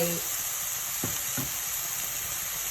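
Pork ribs frying in a pan for a Thai curry, a steady soft sizzle with two brief knocks of ingredients or a utensil against the pan partway through, no talking.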